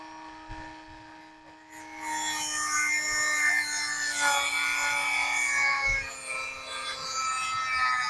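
A Dremel rotary tool cuts toward a bolt while a weapon light is being secured. A steady high-pitched motor whine turns into a harsh grinding rasp after a short moment and carries on close and loud.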